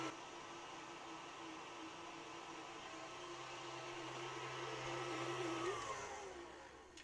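Cream cheese frosting being mixed with an electric mixer, a faint, steady motor whir holding for several seconds, rising slightly before winding down at the end, with no talking.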